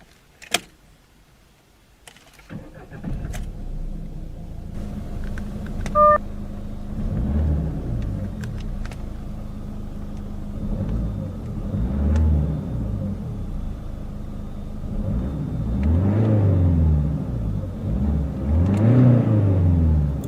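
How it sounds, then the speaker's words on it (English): A 2013 Citroën C5 1.6 HDI diesel starts after a key click, settles into a quiet idle, then revs smoothly several times to about 3,500 RPM, each rise and fall swelling louder toward the end. "Has a very quiet and smooth free revving engine."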